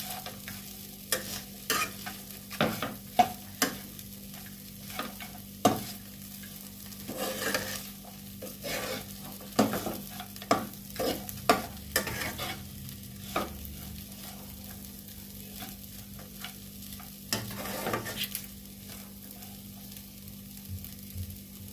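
Turmeric and black pepper powder stirred in a frying pan: repeated scraping strokes against the pan come in irregular bursts over a faint low sizzle, quiet between strokes, with no speech.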